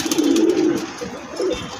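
A wild pigeon gives two low, soft coos close by, a longer one followed by a brief second call after a pause.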